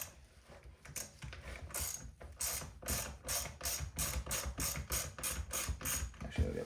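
Hand ratchet backing out T25 Torx screws from steering wheel trim on a Ford Police Interceptor Utility Explorer, a close, quiet run of rapid clicking pawl strokes that grows into a steady rhythmic cadence.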